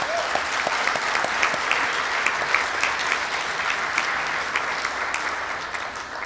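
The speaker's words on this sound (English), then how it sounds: "Let's give her another round of applause." Sustained applause from an audience at a Rotary club meeting, dense steady clapping at close range with sharper individual claps popping out, carrying on evenly without talk.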